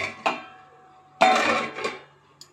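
A pot of cooking chana dal being covered: a couple of metallic clanks of the lid against the pot, the loudest a ringing clatter midway, then a faint tap at the end.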